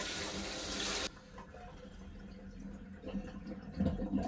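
Seafood is washed under a running kitchen tap, a strong close gush that cuts off after a second, then quieter splashing and handling in the sink, with no talk.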